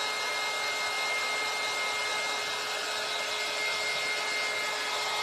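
A hot air blower bought on Shopee runs steadily, a loud continuous whooshing hiss with a constant motor whine, close and unchanging, with no talking.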